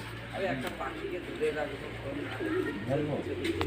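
Soft, repeated cooing of many pigeons at a hilltop temple on Ayodhya Hills, Purulia, rises and falls in the background, mixed with the murmur of a crowd and a few faint bird calls.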